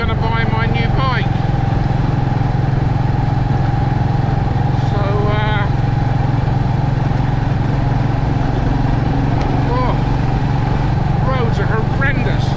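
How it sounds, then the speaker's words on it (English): A Royal Enfield Meteor 350 motorcycle ridden on rough, potholed roads in the Cotswolds hums with a steady low engine drone and wind rush, while a rider talks over it throughout. "today I'm having my final ride on the Meteor"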